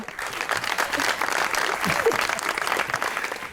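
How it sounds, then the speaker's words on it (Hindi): A television comedy show studio audience claps, dense steady applause with a crowd murmur blended in, lasting the full few seconds at an even level. "तालियां"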